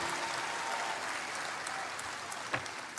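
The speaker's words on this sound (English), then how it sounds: "I think that requires a round of applause for all of us." An audience applauds at a Save Soil movement gathering in Kathmandu: continuous, moderately distant clapping with an even texture and one brief louder knock near the end.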